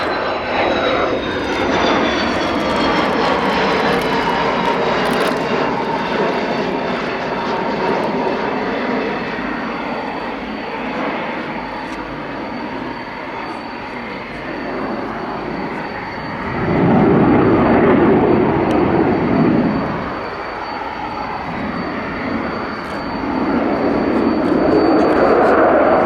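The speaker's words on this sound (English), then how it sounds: "So this is for a touch and go, or maybe a low overshoot?" A MiG-29 Fulcrum jet makes a low overshoot with undercarriage down at an air show, its engines roaring steadily overhead for the whole stretch and swelling louder in powerful surges as it passes.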